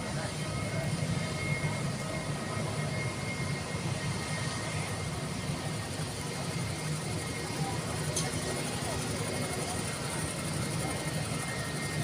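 A British Airways airliner taxis after landing, a steady distant jet engine roar that holds evenly throughout, heard from outdoors at an airfield.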